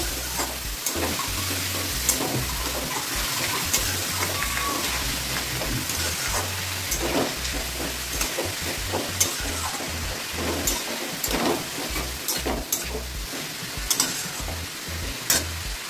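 Radishes fry in a home kitchen pan with a steady, close sizzle. Stirring scrapes and clinks break through it again and again, and no one speaks.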